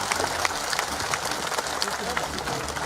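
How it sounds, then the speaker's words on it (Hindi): Steady clapping from a crowd at an outdoor election rally in Jashpur, a dense even patter of many hands held at a moderate level for the whole stretch, with no voice rising above it. "रायमुनि के लिए सभी लोग ताली बजाइए जरा"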